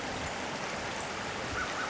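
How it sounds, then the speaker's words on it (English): A small stream with a steady, soft wash of flowing water, faint and continuous, with light snow along the banks and no talk. "there's the water flowing"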